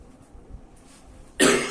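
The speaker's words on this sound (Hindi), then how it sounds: "एक सेकेंड, खांसी होने वाली" A single sharp cough breaks out suddenly after near silence, loud and close, with a harsh burst that holds for a moment.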